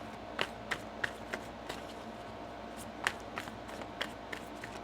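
A deck of tarot cards is being shuffled, soft crisp riffles and taps repeating irregularly over a low, steady background hum, close and fairly quiet, without talk.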